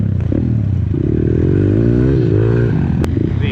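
Quad ATV engine revving loud and close while riding across frozen ice, its pitch climbing and wavering in a continuous throaty drone, with a brief clatter near the end.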